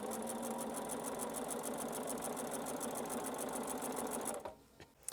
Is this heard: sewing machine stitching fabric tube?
yes